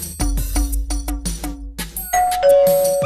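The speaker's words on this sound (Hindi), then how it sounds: "जा घंटी बजा के आ जा" A doorbell sounds a two-tone ding-dong near the end, preceded by a run of rapid, loud clattering knocks or taps.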